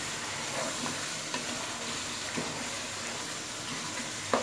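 Chopped coriander and mint sizzle and fry in a pot of beef masala pulao, a steady close crackling hiss with occasional soft knocks of stirring, no talk.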